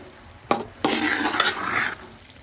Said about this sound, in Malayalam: നന്നായിട്ട് ഇളക്കി കൈമാറ്റാതെ ഇളക്കി നന്നായിട്ട് ഇളക്കി കൊടുക്കണം